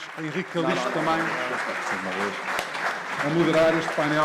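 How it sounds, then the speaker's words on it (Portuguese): An audience claps throughout while someone speaks over the applause, the clapping sounding as a dense crackle under his voice. "Uma grande salva de palmas."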